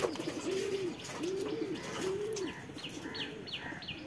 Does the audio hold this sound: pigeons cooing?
yes